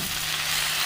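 Onions sautéing in a pan, a loud, even sizzle heard close up for a brief moment.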